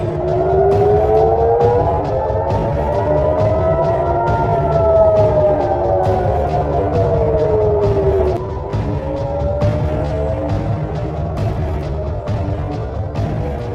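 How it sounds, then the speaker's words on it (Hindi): An air raid siren wails continuously across Israel during a drone attack, rising and falling in long sweeps, loud and sustained with background noise. "पूरे इजराइल में हवाई हमलों के सायरन बजने लगे"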